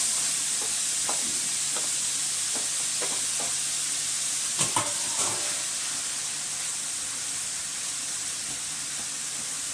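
Liver frying in a pan for a holiday breakfast, giving a steady bright sizzle and hiss throughout, with a few clinks and scrapes of stirring and a louder clatter near the middle.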